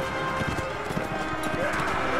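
Horse hooves clatter in the medieval battle game Mount&Blade: Warband, a quick, irregular run of clip-clops close by amid battle noise, with someone talking over it.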